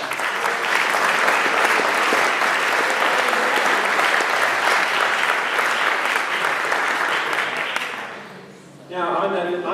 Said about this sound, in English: We'd like to have everybody a little round of applause for Paula.